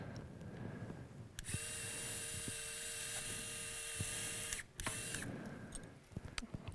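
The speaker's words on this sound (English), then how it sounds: "This is the newly designed drill guide to provide the pilot hole for the geared mechanism." A surgical power drill bores a pilot hole through a drill guide during an MTP fusion plating procedure, a steady high whine running for about three seconds with a brief dip, then resuming, close and alone.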